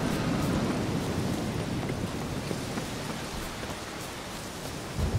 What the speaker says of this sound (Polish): Ależ pięknie pada.